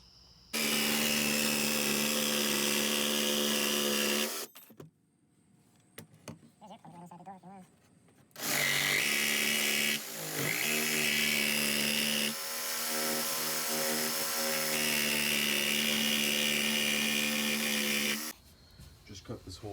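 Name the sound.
power tool cutting a hole in a step van wheel well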